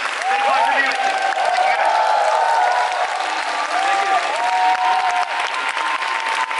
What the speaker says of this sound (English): Please give him a very big round of applause.